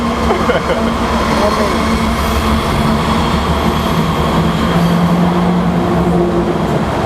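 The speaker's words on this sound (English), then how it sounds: "A lot of trains around here, right?" A train rumbles past nearby with steady low droning and faint wheel squeal, a continuous roar throughout.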